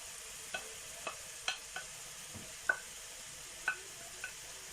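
Kofta frying on top of onions in a pan gives a soft, steady sizzle, broken by a string of light clicks and taps from a utensil, close and quiet with no talk.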